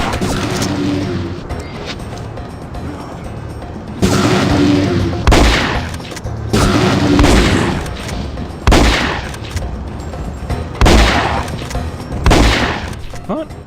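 Heavy bursts of automatic gunfire in No One Lives Forever 2 as a super soldier lieutenant is shot, loud, close, repeated volleys of a few seconds with brief gaps between them.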